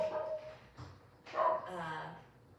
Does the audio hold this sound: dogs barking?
yes